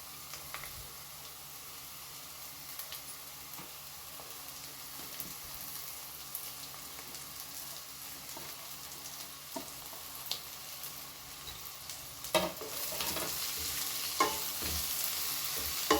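Drumstick leaves frying with egg in a pan: a continuous crackling sizzle with intermittent stirring scrapes, close and moderately quiet, growing busier and louder toward the end.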